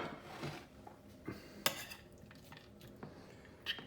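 A spoon works crumbled Périgord walnuts into homemade fresh cheese in a dish, quiet and close, with a few soft squishes and light clinks of utensil against the dish.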